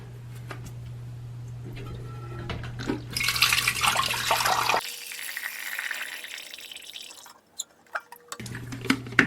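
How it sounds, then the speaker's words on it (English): Water from a toilet tank valve splashes into a Pyrex dish on the floor in a brief rushing spill, then trickles and drips in a few faint drops, close with light handling noise. "I have a little Pyrex container on the floor here to catch the water"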